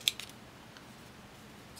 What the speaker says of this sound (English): So I'm going to take my scissors and just trim this